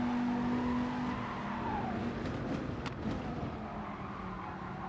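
A Gr.4 race car on the Dragon Trail Seaside circuit in Gran Turismo Sport brakes hard into a corner. The engine note drops and tires squeal briefly, with other cars close by, all fairly loud and without talk.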